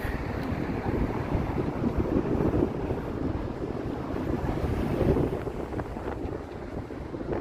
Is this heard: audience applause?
no